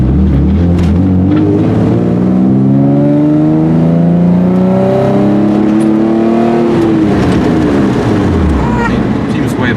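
A Nissan 350Z with a God Snow catback exhaust accelerates uphill, engine note climbing loudly through the revs before easing off, heard from inside the car with voices talking over it.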